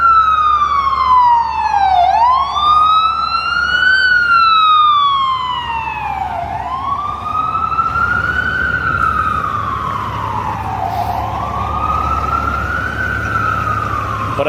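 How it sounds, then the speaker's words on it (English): An ambulance siren wails on a New York City street in Manhattan at night, loud and near, its slow rising and falling sweeps repeating over the low rumble of traffic. "There's an ambulance coming."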